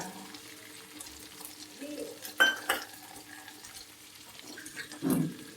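Chicken fry with masala powder cooking gently on a low flame gives a quiet, steady sizzle, broken by a few short stirring scrapes and clinks. No one speaks.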